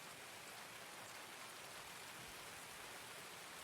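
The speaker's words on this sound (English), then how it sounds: "Don't worry, it's raining. Nobody can hear anything." Steady, dense rain in the video game Escape from Tarkov, a continuous even hiss of rainfall with no breaks and no voices over it.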